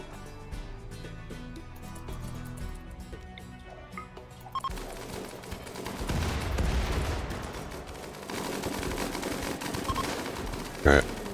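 Gunfire rattles in the RimWorld video game, from scattered shots at first to denser bursts of firing further on, with one sharp loud crack near the end and speech mixed in.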